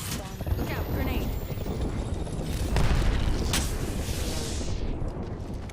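A grenade explodes in a sci-fi shooter video game, with a booming blast standing out around the middle of a dense, busy battle mix. Other game effects and voices run throughout.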